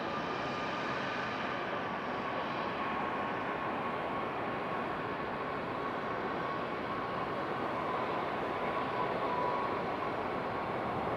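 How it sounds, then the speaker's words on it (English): A JetBlue airliner touches down at Raleigh-Durham International, its engines a steady, broad roar held at an even level throughout, with no voices present. "Just in time for the touchdown of JetBlue."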